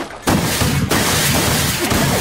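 A potato cannon firing, a loud sudden blast that cuts in abruptly and then a second burst, with a rough, sustained roar and rumble after each.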